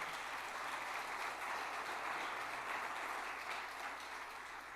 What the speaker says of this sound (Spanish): Dele fuerte palmas al Señor.